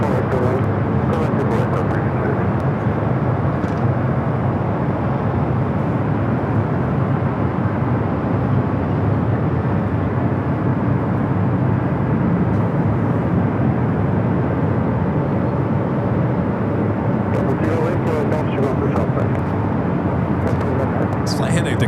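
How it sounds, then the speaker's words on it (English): A Delta 767-300ER jet airliner at LAX gives off a loud, steady broadband roar that holds for the full stretch without easing, with a few faint ticks layered over it. "Another Delta 767 at 300 ER now lining up."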